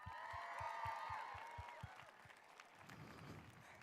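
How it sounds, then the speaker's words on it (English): A graduation audience applauds for the singer Sophia, a broad crowd of clapping and cheering with a strong rhythmic thump beneath, fading toward the end. "Let's give another round of applause to Sophia"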